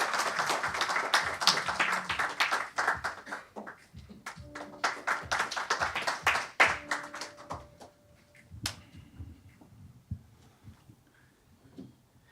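A forum audience claps to welcome a keynote speaker, the German ambassador to Korea, dense applause that thins into scattered separate claps and fades toward the end.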